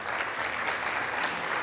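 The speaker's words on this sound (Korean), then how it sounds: "나오실 때 우리 환영의 박수 하겠습니다." Welcoming applause from a church young adults' Sunday worship congregation, a brief, even, steady patter of many hands clapping together.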